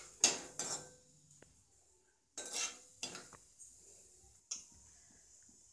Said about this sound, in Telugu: ఇప్పుడు మనం ఆలు యాడ్ చేసుకుందాం.